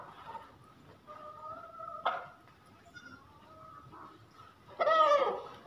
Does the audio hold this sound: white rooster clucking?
yes